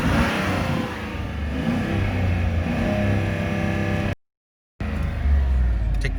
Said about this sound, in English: Give it some revs here.